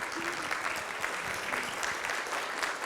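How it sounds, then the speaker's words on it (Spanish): A school audience at a labour-law talk gives a steady round of applause, a dense patter of hand claps holding even for nearly three seconds with a few sharper individual claps standing out. "así que démosle un aplauso."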